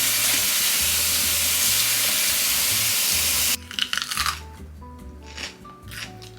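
Running water rushes steadily as fresh produce is rinsed for the week, loud and close, then cuts off into scattered drips, clinks and handling noises.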